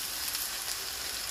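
Cut potato sautés in hot oil for a chickpea curry, giving a brief, quiet, even sizzle with no voices.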